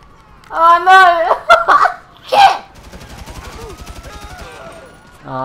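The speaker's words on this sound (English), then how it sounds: "Stop shooting me in the back!" Gunfire in GTA 5 Online, a rapid stream of automatic shots in the second half following shouting and laughter from players, moderately loud behind the voices.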